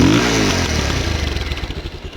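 A Bajaj Pulsar 220 motorcycle exhaust revs up close, a loud initial blip settling into a rapid, pulsing idle-like burble that fades slightly toward the end.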